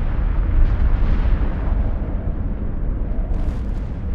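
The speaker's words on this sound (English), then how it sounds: "The sun erupted in a series of massive explosions called coronal mass ejections, or CMEs." A deep explosion sound effect standing in for massive solar eruptions, heard as a loud, sustained low rumble with a dense roar that rolls on for several seconds without distinct breaks.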